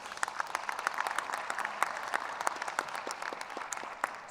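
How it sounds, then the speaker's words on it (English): Audience at a conference closing plenary giving themselves a round of applause, a moderately quiet, steady crowd clapping with distinct individual claps standing out, continuous throughout. "Give yourselves a round of applause."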